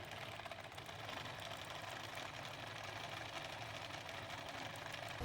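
A sewing machine stitches the strap of a linen dress in a steady, continuous mechanical whir with a fine rapid rhythm, close by and moderately quiet, running alone without talk throughout.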